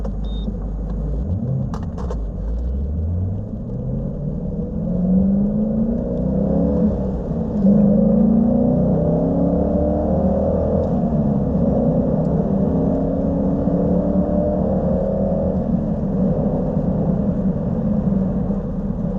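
A Corvette engine heard from inside while driving, a low rumbling drone that rises in pitch through several gear changes as the car accelerates, steady and close.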